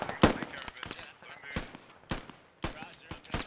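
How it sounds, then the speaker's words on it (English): Gunfire in the video game Squad, a few sharp irregular shots and short bursts with distant crackle between them, over faint background voices. "Frederick now shooting at this contact"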